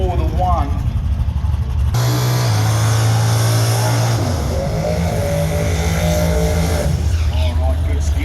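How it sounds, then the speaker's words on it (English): Radial-tyre drag racing cars on an eighth-mile strip roar loudly through burnouts in both lanes, engines revving hard and tyres squealing, with a voice heard over the din. "good skids both sides, gentlemen"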